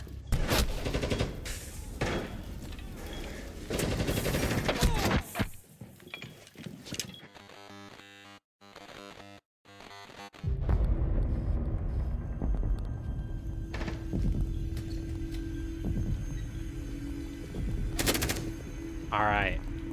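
Rapid automatic gunfire in the video game Rainbow Six Siege comes in loud bursts, stops for a few seconds of near-silence, then resumes with more gunfire and game noise.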